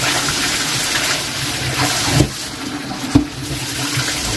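Water pours from a bucket over an American Bully puppy during a bath, a steady broadband splashing with two brief louder splashes near the end, no voices.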